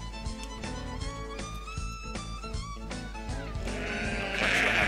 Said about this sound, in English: I knew he couldn't be too far because I could hear him. But so we found the sheep